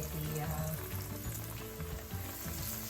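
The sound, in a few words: chicken cutlets frying in oil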